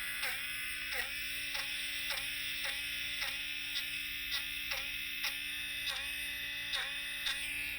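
A small electric eraser buzzes steadily on a colored pencil drawing, close by, pulsing in short regular strokes about twice a second as it is pressed and lifted, with no talking.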